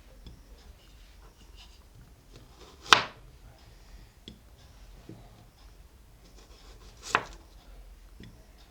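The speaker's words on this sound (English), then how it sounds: "Then we are going to chop our onions." Two sharp knife strikes chop onions on a board for beef kebabs, spaced several seconds apart and close by. Quieter scraping and tapping fill the gaps between them.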